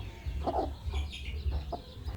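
Soft, low clucking from a broody hen, a few short murmuring calls spaced irregularly across a quiet background.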